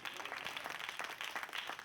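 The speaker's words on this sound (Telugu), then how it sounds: "చప్పట్లు కొట్టండి ఒకసారి" A church congregation at a servants' gathering breaks into applause for its senior servants, a dense, steady wash of many hands clapping together, moderately loud and continuous for a couple of seconds.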